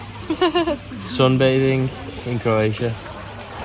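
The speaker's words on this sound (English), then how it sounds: "Just cicadas in the background, mate." Cicadas buzz outdoors in Croatia as a constant high shrill drone filling the background, while someone talks over it nearby.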